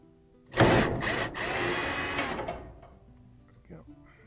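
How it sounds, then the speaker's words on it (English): A DeWalt angle drill driving a screw inside a gas dryer being rebuilt, a loud whirring motor burst that rises and stalls in short pulses for about two seconds, close by, after which someone speaks. "We got a DeWalt angle tool to get into that screw there,"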